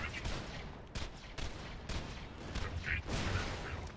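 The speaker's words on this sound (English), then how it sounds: "I'm just gonna use the Torg pistol. That's the only thing that's actually doing anything to these guys." A Torg pistol in Borderlands 2 fires in a steady string of sharp shots about every half second, with heavier blasts in the background and a voice underneath.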